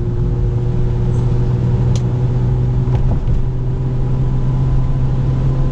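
A 1996 BMW 323 with Schnitzer styling runs in power mode, its engine holding a steady, loud revving hum at sustained RPM, with a brief click and faint rattles over the continuous drone.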